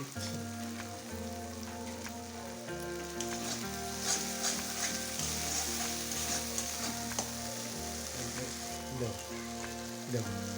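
Asafoetida sizzling in hot oil in a pan while making dhokar dalna, a loud, steady crackling fry that continues throughout, up close and without talk.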